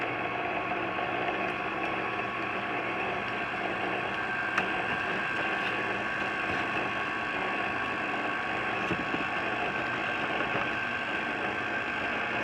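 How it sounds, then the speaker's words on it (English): A KitchenAid stand mixer with a dough hook runs at low speed, kneading pizza dough in a steady mechanical whir and hum with faint rhythmic knocking, no voices. "I have a KitchenAid. I have a dough hook on here."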